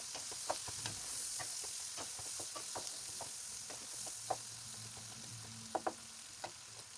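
Sliced red and yellow capia peppers sauté in a pan, a quiet, steady sizzle broken by scattered scrapes and taps from a stirring utensil, close by with no talking.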